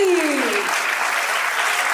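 Loud, dense applause from a school event audience after a Class 10 group dance performance, steady throughout with a faint voice at the start.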